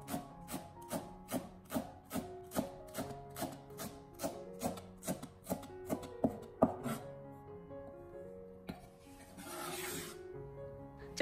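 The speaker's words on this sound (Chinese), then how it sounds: "首先，我们先准备少许的小葱，给它清洗干净以后，将它改刀切成小葱花。" A knife chops cleaned spring onions into small pieces on a board, roughly fifteen crisp, evenly paced taps close by, slowing toward the end before a soft rustle.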